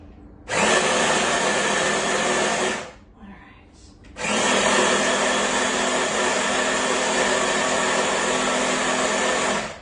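Old-fashioned oats being ground fine in a blender or food processor for homemade dog treats: a loud, steady motor whir in two long bursts with a short pause between, close by.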